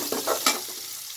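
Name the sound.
frying chopped onion in a pan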